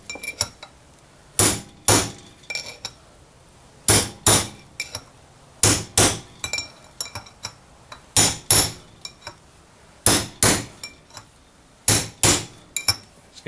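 A hammer strikes a metal punch to drive a wheel bearing race out of its hub, sounding as sharp ringing metallic blows in short clusters of two or three, loud and close, with pauses between, and no talking.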